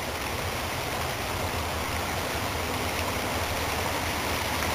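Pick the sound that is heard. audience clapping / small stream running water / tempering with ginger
small stream running water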